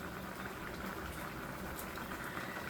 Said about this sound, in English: I want it to melt, so I want it to keep boiling